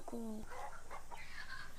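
A hen gives a short, bright cluck at the start, then a voice talks over faint background noise.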